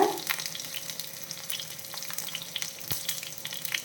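Small onions sautéing in a pan for a bitter gourd curry over lowered heat, giving a steady close sizzle with a brief sharp clink near the end.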